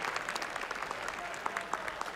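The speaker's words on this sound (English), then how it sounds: "A round of applause for these guys" Steady crowd clapping at an ESL One New York 2014 esports tournament fills the whole stretch, dense and continuous with scattered sharper claps, heard at a moderate distance.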